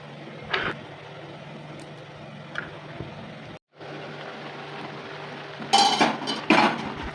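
A knife cutting a pomegranate beside a pot of simmering pineapple chutney. A few sharp knocks and a cluster of clattering hits near the end sound over a steady low background hum.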